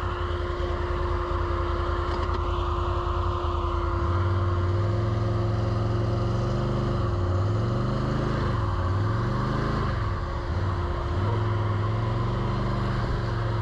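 A quad bike engine driven offroad through ditches and boggy ground drones close by, its revs rising and falling in repeated surges as the throttle works against the terrain.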